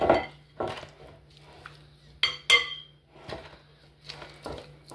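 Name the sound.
stirring caramel mixture for chocolate pecan turtles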